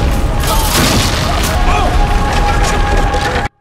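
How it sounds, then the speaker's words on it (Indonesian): A loud bomb blast erupts in the 2004 action film Sniper, a dense roaring boom with crackling debris that fills the whole scene and then cuts abruptly to silence. "Sementara di perjalanan, bom tiba-tiba meledak"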